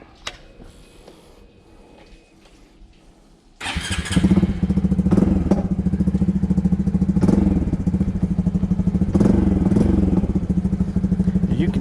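A Honda CT125 motorcycle fitted with a 142cc big bore kit starts up after a few seconds of quiet clatter, then idles loud and close with a steady, rapid thumping rhythm that holds to the end.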